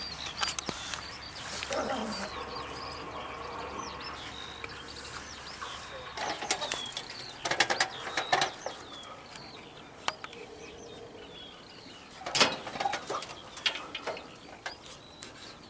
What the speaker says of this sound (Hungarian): Nagyon egészségesek a galambok.